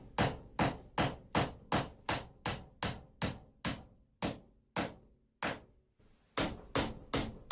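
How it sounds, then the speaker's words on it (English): Nails hammered through newly smoothed pine floorboards into heavy log joists on a log cabin subfloor: a steady run of close, sharp strikes, a brief pause, then a few more blows. "the builder carefully positions the long, newly smoothed pine boards and nails them securely down into the heavy log joists."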